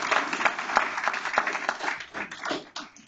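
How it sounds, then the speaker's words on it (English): Board meeting audience gives AP scholars a round of applause, dense close clapping filling the room continuously for about three seconds before starting to thin out. "let's give our AP Scholars with distinction another round of applause"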